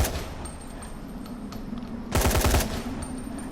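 Rifle gunfire from the video game Dying Light, a short loud burst of rapid shots about two-thirds of the way through over a steady low game ambience.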